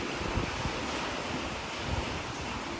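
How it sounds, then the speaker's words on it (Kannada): Heavy rain driven hard through a sliding door into a room, a dense, continuous roaring hiss with gusty wind-like surges and no voices. "ಬಟ್ ಆದರೂ ಅದ್ರೊಳಗಿಂದ ಇಷ್ಟು ಜೋರು ಫೋರ್ಸ್ಲೆ ಮಳೆ ಬರತ್ತಲ್ಲ"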